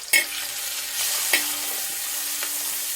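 Chili powder frying in hot oil gives a steady, close sizzle, with a few brief stirring scrapes breaking through and no one talking.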